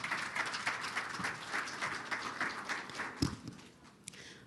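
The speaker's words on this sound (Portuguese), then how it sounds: "Uma salva de palmas para a palestrante" An audience applauds a guest speaker at a conference event, steady moderate clapping from a room of people, fairly soft and slightly distant, thinning out toward the end with a few isolated louder claps.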